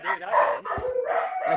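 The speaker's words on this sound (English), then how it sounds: "Our dogs are barking at us." Dogs barking at home, heard as a run of fairly faint, muffled barks and yips that follow one another, with a brief thump in the middle and no clear talk.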